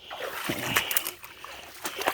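Legs wading through knee-deep creek water toward mud, with uneven splashes and sloshing pulses, close and moderately loud, scattered over about two seconds.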